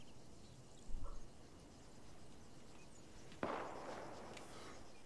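Sniper rifle shot in the military game Arma 3: a single sharp crack rings out in a quiet scene, fairly faint and distant-sounding, with a short tail, preceded by a softer thud.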